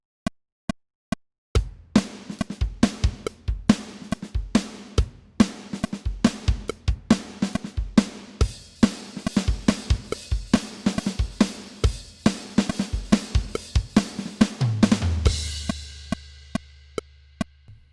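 A MIDI drum kit played live on a drum pad, loud and close: a few sparse hits, then a dense groove of steady kicks, snares and hi-hat ticks, ending in a crash cymbal that rings out under deep low notes.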